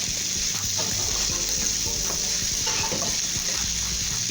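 Food sizzles steadily in a hot pan while a utensil stirs and scrapes through it, a continuous frying hiss throughout.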